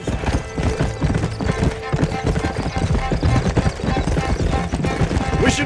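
Horses gallop in the Red Dead Redemption video game with rapid, continuous hoof clip-clops, close and loud, with a brief neigh and game voices talking over them.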